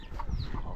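Chickens clucking at feeding time on a home farm, a brief burst of close, busy clucking and rustling.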